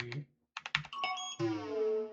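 Quick key taps on a computer keyboard while entering a 4-digit code, a short burst of close clicks followed by a sustained ringing tone.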